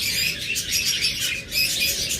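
A pair of pet lovebirds, a green opaline male and a euwing female, chirp and tweet continuously at close range in a bird shop, with busy overlapping high calls and no talking.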